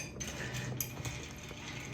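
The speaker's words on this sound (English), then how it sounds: "Now a lot of ice goes in here, and I'm gonna stir it." A bar spoon stirs a lot of ice in an Aviation cocktail, making faint, steady clinking and rattling with a few sharper chinks and no voices.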